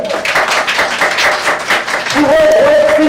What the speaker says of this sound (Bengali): শুভর জন্য একটা জোর হাততালি।